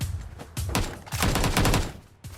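A SCAR rifle in PUBG: New State fires close and loud in rapid bursts, with short pauses between the volleys and a final shot at the end.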